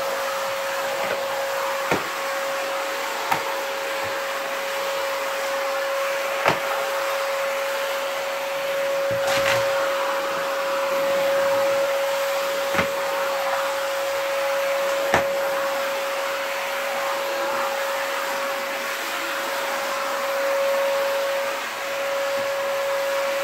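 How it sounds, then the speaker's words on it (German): A vacuum cleaner runs continuously while a room is cleaned, a steady whining drone with a sharp tone, broken by occasional knocks and bumps as the nozzle moves, with no talking. "Ich habe schon mal den Staubsauger hier."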